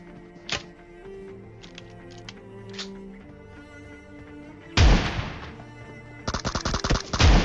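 Shotgun blasts in the PUBG battle royale video game, a few sharp isolated reports early on, then two loud bursts of rapid firing near the end over a low background of game sounds.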